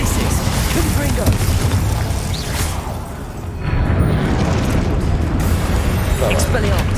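Spell blasts and explosions from Hogwarts Legacy, a dense, loud, continuous stream of booming bursts and crackling impacts with a brief dip midway, under a voice shouting spell incantations.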